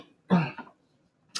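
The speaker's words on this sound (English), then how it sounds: "Sorry for the cough." A single harsh cough and throat clear, close and fairly loud, after water went down the wrong pipe, then quiet.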